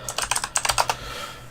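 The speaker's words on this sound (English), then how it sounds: "if anyone can hear my new keyboard, the non-clicky one" Soft keystrokes on a non-clicky computer keyboard, about a dozen quick uneven taps in a short burst before tailing off, heard close and alone with no voices.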